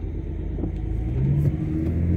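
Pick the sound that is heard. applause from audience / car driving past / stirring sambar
car driving past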